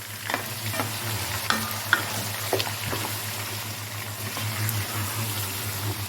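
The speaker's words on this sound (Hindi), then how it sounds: "अब हम अपना चिकन इतना फ्राई करेंगे जब तक इसका पानी ड्राई ना हो जाए।" Chicken pieces frying in a pan with spices for degi-style chicken korma, a constant crackling sizzle with occasional scraping stirs and clinks of a utensil, close and steady with no talk.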